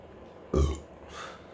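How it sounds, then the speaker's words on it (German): A single short, loud burp from a person at night in a bathroom, deep and throaty, followed by a softer breathy tail in a quiet room. "Sorry fürs Rülpsen."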